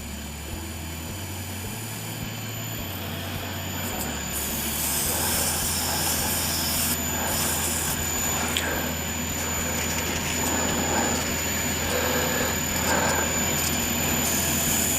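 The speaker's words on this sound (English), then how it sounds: "I'm only going to go lightly with this one. I don't want to sand through this stage." A power sander works over a burl and resin shaving brush handle, a steady broadband whir running throughout with no voices, growing slightly louder after the first few seconds.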